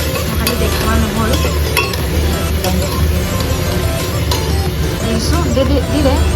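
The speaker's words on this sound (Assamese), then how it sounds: "পিঁয়াজখিনি অলপ ব্ৰাউন হ'বলৈ দিম" Onions browning in a pan for an Assamese mutton dish, a loud steady sizzle and stirring scrape running throughout, with voices and kitchen babble underneath.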